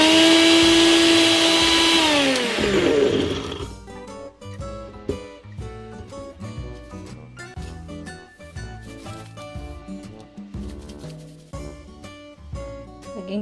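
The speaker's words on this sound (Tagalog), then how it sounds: "And then, i-blender natin." A blender whirs loudly at first, then the pitch drops into a rough, rattling grind as cookies break up into powder, ending in uneven churning.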